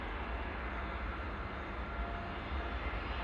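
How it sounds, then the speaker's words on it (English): A Boeing 787 Dreamliner takes off from Manchester Airport, a broad, steady jet roar heard from a distance, unbroken and without voices. "Dreamliner now on the roll, going off to Tenerife"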